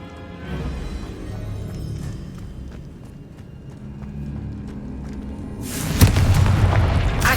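Confringo blasting spell from the Hogwarts Legacy video game: a sudden loud explosive burst near the end, cutting through a steady rumbling, clattering game soundscape.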